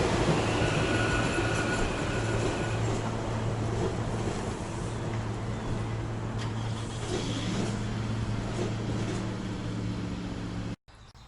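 Silverliner 5 electric passenger cars run back past an unused platform on the CSX Trenton Subdivision, giving a continuous close rumble and low hum that eases slightly before cutting off abruptly near the end.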